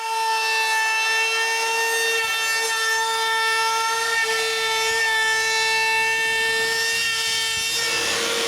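A power tool cuts the corners of a wooden retro joystick box, giving a sustained high whine with a steady tone and rough grinding texture underneath, close and loud with no talk.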